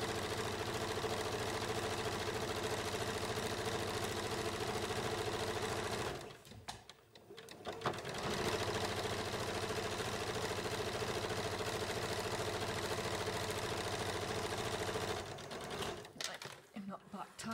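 A sewing machine running steadily as it stitches two parallel gathering rows along a puffed sleeve, a fast even mechanical whir close by, pausing briefly in the middle and stopping near the end.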